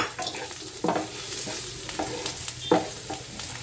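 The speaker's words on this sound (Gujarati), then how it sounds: "હવે સિંગદાણા બધા નાખી દઈશું." Peanuts and chillies stirred and roasted in a pan, a close, steady sizzle broken by scraping spoon strokes at an uneven rhythm, with no talking.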